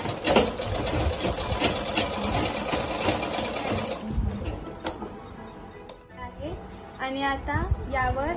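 A sewing machine stitches a cloth mask in quick, steady runs of rattling ticks, close and fairly loud. It pauses near the end, and someone speaks over and between the bursts.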